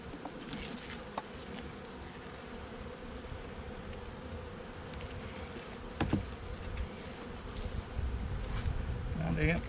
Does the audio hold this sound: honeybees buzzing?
yes